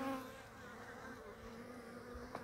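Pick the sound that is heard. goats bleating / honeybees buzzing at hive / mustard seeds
honeybees buzzing at hive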